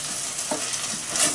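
Rice for a fish risotto, with wine and fish stock, bubbling and sizzling in a pan while being stirred, a close, steady simmer with soft scraping, no voices.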